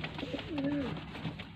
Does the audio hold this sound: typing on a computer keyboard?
no